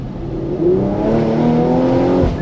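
A turbocharged Porsche Macan GTS engine revs hard and climbs in pitch, a loud, close, rising roar with a slight whistling whine over it.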